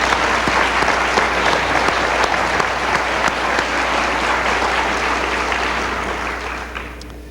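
Sustained applause from a large audience, many hands clapping continuously and loudly before slowly tapering off toward the end.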